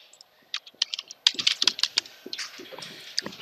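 A word is typed into the Ubuntu search bar on a computer keyboard, producing a few scattered key clicks, then a denser run of crisp, close keystrokes with short pauses between them and no talking.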